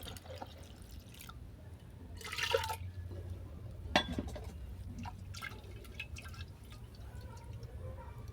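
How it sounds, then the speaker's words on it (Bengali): Water trickles and splashes into a cooking pot of dal in a couple of short pours, with faint clinks against a low background hum. "অল্প করে জল দেবো"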